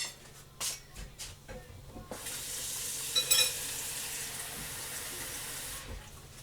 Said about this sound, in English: scramble our eggs.